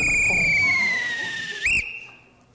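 A long, piercing whistle tone holds steady and dips slightly in pitch, then a short, sharp blast sounds before it fades out. No one speaks.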